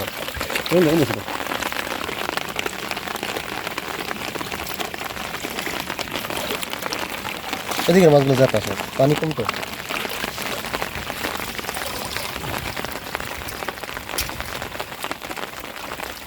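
Rain falls steadily on a waterlogged field during current-net fishing, a constant close hiss of drops on water while someone talks briefly over it.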